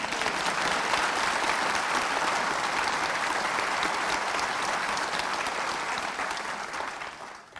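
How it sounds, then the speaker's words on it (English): Sustained audience applause fills a theatre at a graduation ceremony, dense and steady, holding at full strength for several seconds before tapering off at the end. "maybe we can give her a clap."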